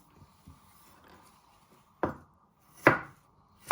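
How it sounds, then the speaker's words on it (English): A knife presses down on and then slices peeled garlic on a board, starting with a few soft taps and ending with two or three sharper, louder chopping knocks near the close. "Once you have peeled your garlic, you place your knife on top, you press down,"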